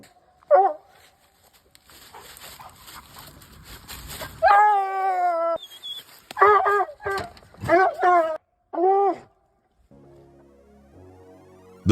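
A treeing walker coonhound barks and bawls at a tree, loud, close bursts of baying and howling in an irregular rhythm, with an electronic tone and faint background noise in between.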